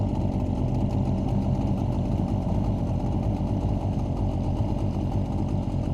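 A Suzuki 9.9A/DT15A outboard motor idles through its break-in run, a steady, close, unbroken mechanical drone holding an even level from start to finish with no talk over it.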